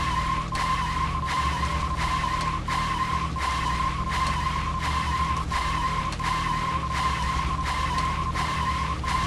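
Car engine drone with repeated tire skidding in the video game Deadly Premonition, a loud, steady, looping whine broken by regular bursts of screeching about every second, with no talk.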